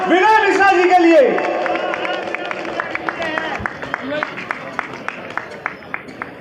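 A crowd claps loudly in welcome for MLA Vinay Mishra at a public gathering, a dense burst of applause thinning into scattered sharp claps, under a raised voice at first.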